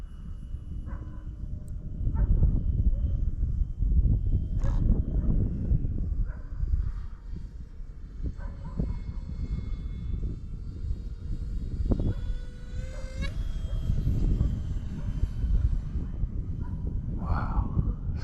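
A DEERC F-35 model airplane, the FX9635, whines overhead as it comes in gently to land in strong wind. A thin electric motor tone rises and falls over a steady, loud roar of wind buffeting.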